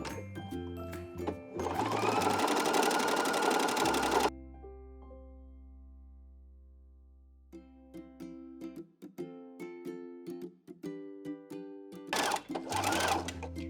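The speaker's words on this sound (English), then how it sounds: "let's zigzag down this fancy elastic" A sewing machine runs a zigzag stitch along decorative elastic trim for underwear: two loud, steady motor bursts with clicking needle action, separated by a quieter stretch of faint clicks and a low hum.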